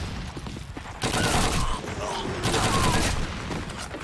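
Rapid bursts of gunfire in the shooter game Call of Duty 2, dense overlapping shots with a louder stretch in the middle, and a voice speaking faintly beneath.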